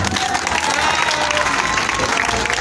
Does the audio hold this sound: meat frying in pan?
no